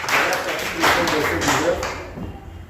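A church congregation applauds during a sermon: a few seconds of quick, dense clapping that fades out, with a voice talking over it.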